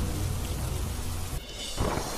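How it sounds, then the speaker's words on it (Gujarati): Heavy rain pouring down in Mandvi, Kutch, a dense continuous roar with a brief dip near the end before it surges back. "કચ્છના માંડવીમાં વરસાદનો કહેર."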